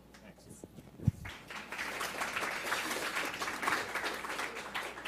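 Forum audience at a Medicare policy event breaking into applause after a thump, with clapping building and continuing steadily at a modest, somewhat distant level.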